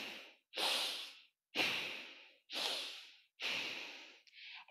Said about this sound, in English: It's called bellows breath or Bhastrika Pranayama. So it's a deep inhale through the nose and deep exhale through the nose.